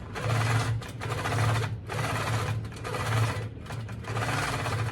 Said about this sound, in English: Stitch all the way to the top of this pocket.